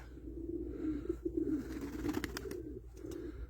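Newly arrived Turkish tumbler pigeons, smoky, musky, blue and grizzled birds, give a soft, continuous low cooing with brief pauses, nearby and fairly quiet, with no talking.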